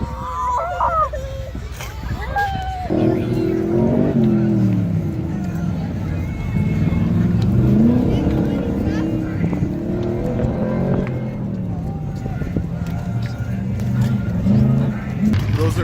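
A Chevelle engine revs hard during a burnout competition on a sunny day, a loud sustained roar rising and falling across the whole stretch, mixed with crowd babble and shouting from onlookers.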